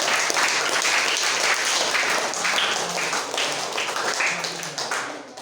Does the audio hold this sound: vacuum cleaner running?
no